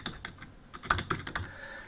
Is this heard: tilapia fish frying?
no